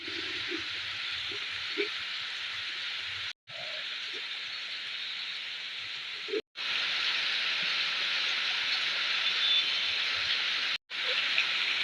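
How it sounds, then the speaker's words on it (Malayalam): A steady, loud hiss of heavy rain continues throughout, broken by a few very brief cuts of silence. "നല്ല മഴ നോട്ടാ സൂപ്പർ മഴ"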